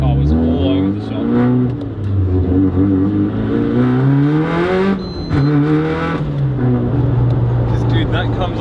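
A Mitsubishi Lancer Evolution 5 rally car running about 22 psi of turbo boost accelerates hard from inside the cabin, its engine note climbing loud and steady through the gears with a brief shift dip, while people talk over it.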